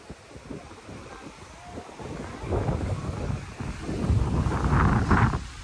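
Strong wind at the beach buffets the microphone with a low roar, building louder over several seconds, with a faint wash of surf behind it.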